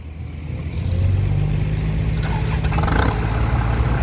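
Kubota farm tractor engine running on an earthmoving job, a steady low diesel rumble with a smooth, fairly quiet new exhaust pipe, holding an even idle close by throughout.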